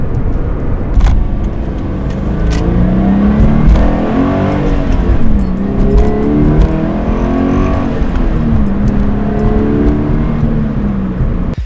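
A Scion FR-S sports car is driven hard through corners, its engine loud and close with rising and falling revs as it accelerates out of each bend, tire and wind noise underneath.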